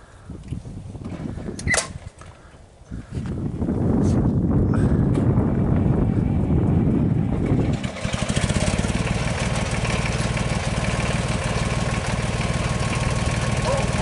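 An old 1976 Deutz tractor engine starts with a few coughs and clanks, then settles into a loud, steady diesel chugging that keeps running close by.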